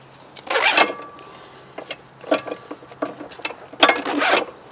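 Straps on a pair of motorcycle saddlebags are pulled tight against a rack, making several bursts of ratcheting, scraping webbing and buckle creaks in uneven pulls, close by with no talk.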